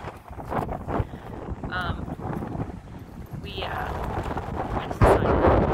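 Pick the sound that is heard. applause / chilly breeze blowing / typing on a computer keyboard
chilly breeze blowing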